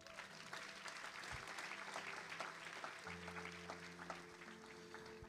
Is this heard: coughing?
no